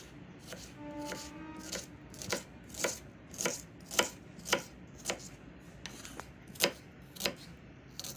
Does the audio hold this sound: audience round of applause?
no